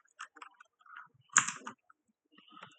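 Someone types a command on a computer keyboard while setting up a Samba file server on Debian 10, producing a short run of close, light key clicks with a brief burst in the middle.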